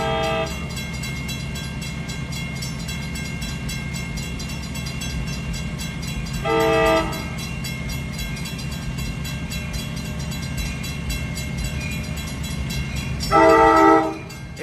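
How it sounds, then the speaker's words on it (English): An Amtrak Capitol Corridor train, number 724 bound for Sacramento with a cab car leading, rumbles steadily past on 105th Avenue in Oakland, with two loud horn blasts sounding partway through and again near the end. "this is Amtrak 724 headed to Sacramento with a cat car leading off."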